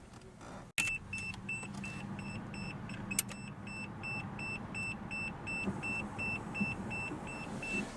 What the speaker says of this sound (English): That is the antenna going up.